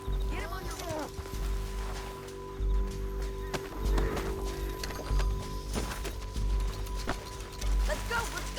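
Horses running in Red Dead Redemption 2, hooves clip-clopping at a quick pace with an occasional whinny, fairly faint beneath game sound and speech.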